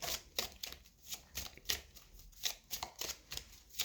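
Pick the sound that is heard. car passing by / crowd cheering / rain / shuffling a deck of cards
shuffling a deck of cards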